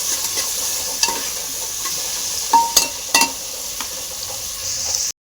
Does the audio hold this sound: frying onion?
yes